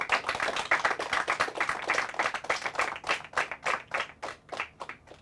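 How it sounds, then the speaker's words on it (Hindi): Applause at the final round of a Hindi quiz, a smaller audience clapping in distinct, fairly sparse claps that thin out and fade toward the end. "इनके लिए फिर से एक बार बहुत जोर से तालियां हो जाए।"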